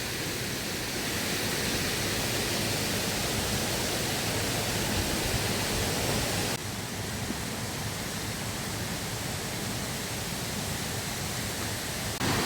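Steady broadband roar of the Hérisson waterfall in the Jura, a continuous rushing wash of falling water heard from a distance through vegetation, with a slight drop in level midway.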